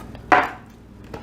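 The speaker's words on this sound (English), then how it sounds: "I like to cut these in, let's say, 1/2 inch slices, just like this." A knife cuts through a block of Spam ham on a board, one firm slicing chop followed by a softer second touch a moment later, close and alone.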